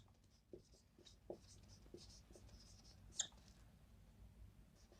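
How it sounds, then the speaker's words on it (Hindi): Marker or chalk writing on a board during a maths lesson on rational numbers, with faint scratchy strokes and a brief sharper tap partway through against a quiet room. "तो यहां हम नोट में लिख देते हैं परिमेय"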